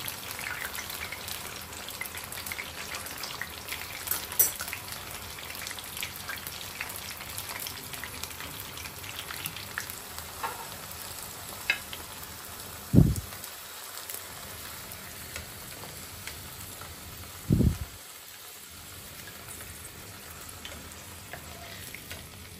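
Snacks frying in hot oil for a crispy afternoon fried treat, a steady soft sizzle throughout with two brief louder thumps near the end, no talking.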